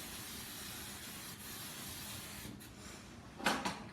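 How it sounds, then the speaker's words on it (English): Release spray misted from an aerosol can into a cake loaf pan for a lemon drizzle loaf: a steady, fairly close hiss running for several seconds, with a short louder burst near the end. "So we're just going to spray our pan."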